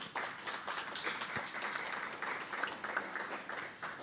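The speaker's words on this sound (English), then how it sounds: "give your organization a round of applause" A crowd applauding steadily, a dense wash of many hands clapping at an even volume from start to finish.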